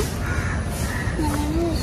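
Crows cawing outdoors near a science centre in Mumbai, a few harsh calls rising over a steady background murmur.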